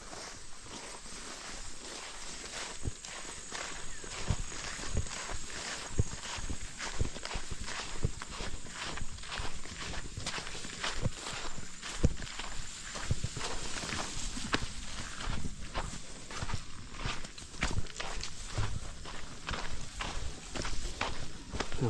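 Steady hoofbeats clip-clop along in an irregular walking rhythm, fairly close, over a constant outdoor hiss with no talking.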